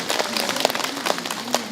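A studio audience of women at a TVRI Islamic study broadcast applauds: a dense, steady wash of many hands clapping at moderate loudness, sustained throughout with no pauses.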